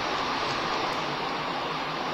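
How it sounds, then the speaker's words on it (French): Steady broadband hiss of light rain falling at a shooting range, constant and even throughout, with no voices. "On va dire qu'il pleut un peu quand même."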